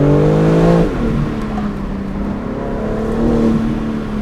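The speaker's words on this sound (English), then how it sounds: "rear-wheel drive with the drivetrain set up for this BMW M3" A rear-wheel-drive BMW M3 accelerates hard, its engine note climbing through a rev-rising sweep before a shift drops the pitch to a steadier, sustained drone as the car keeps pulling, loud and close, with no voices.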